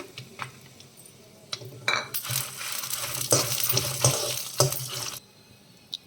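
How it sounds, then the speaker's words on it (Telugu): Dried red chillies, garlic and tamarind frying in a pan, with metal clinks and scraping of a spoon stirring against the pan in bursts over a steady sizzle, close and moderately loud. "ఇలా ఫ్రై అయితే చాలండి తీసేసుకోవాలి పక్కకి"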